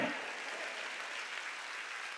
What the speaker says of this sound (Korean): 이게 예배인 걸 믿으면 박수.